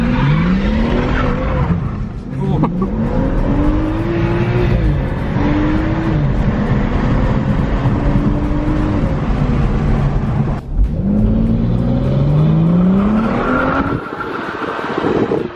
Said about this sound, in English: The intake sounds a lot louder now too